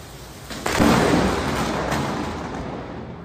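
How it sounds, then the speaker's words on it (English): A heavy thunder rumble from a massive storm system over Mexico rolls in suddenly and holds loud and broad, with a wash of rain-like hiss underneath and no voices. "people in Mexico got a view of this massive weather system and the larger kind of thunder that comes along with it as well"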